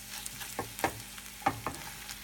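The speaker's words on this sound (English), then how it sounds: "I think I told you that I cook my eggs up with the lid on them" Eggs frying in a pan with garlic salt and pepper, cooked over easy: a soft steady sizzle with a few clacks of a utensil against the pan, close by and fairly quiet, with no talk.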